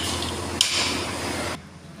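A bolt being tightened on a TVS XL100 moped: a steady broadband whirring or spraying noise runs for about one and a half seconds, with a single sharp metallic knock partway through, then cuts off abruptly.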